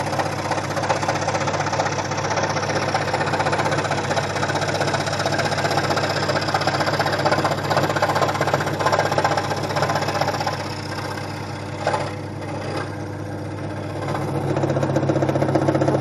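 Scroll saw cutting curves and angles in wood, a steady close mechanical buzz with a rapid reciprocating rhythm that runs continuously, easing briefly in level near the end before picking back up.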